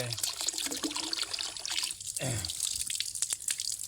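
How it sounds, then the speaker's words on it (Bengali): Betel nut and neem leaves being rinsed under running water, with a steady close splashing and trickling stream and a brief pause partway through. "এই যে গুয়ামুড়ি এবং নিম পাতা এগুলাকে ধুয়ে পরিষ্কার করবে"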